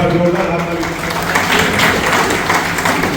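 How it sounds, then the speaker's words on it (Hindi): Crowd clapping at a railway officials' felicitation ceremony in Alipurduar, a dense burst of applause throughout, moderately loud, with voices speaking over it. "एक बार जोरदार हाथ ताली।"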